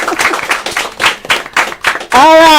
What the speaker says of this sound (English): Please, a round of applause for me before I start.